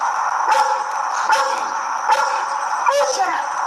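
A dog barks repeatedly in short bursts, four or five yaps spaced about a second apart, heard indoors over a steady background hum.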